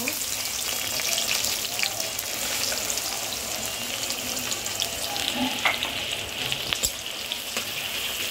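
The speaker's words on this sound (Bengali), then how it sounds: "এই যে বেরেস্তার জন্য পেঁয়াজগুলো ভেজে নেব।" Onions frying in oil for crispy beresta, giving a steady, dense sizzle up close with faint stirring scrapes and a few clicks.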